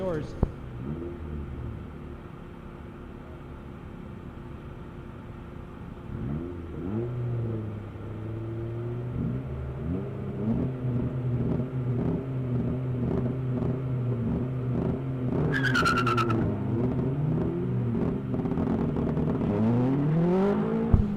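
Mazda Speed Miata autocross cars at an SCCA ProSolo event launch and accelerate, engines revving and climbing through gears in a steady rising drone, with a commentator talking over them.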